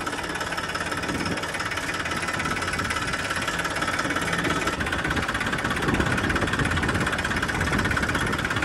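A Massey tractor engine idles steadily on a farm, a continuous mid-pitched diesel chug with a rapid knocking rhythm, close and moderately loud without any talk.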